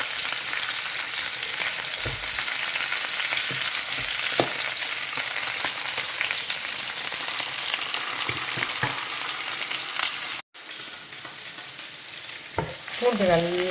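Vegetables sautéing in a pan, a continuous loud sizzle with intermittent stirring scrapes, briefly cutting out near the end before resuming.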